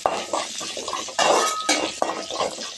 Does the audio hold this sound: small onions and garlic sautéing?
yes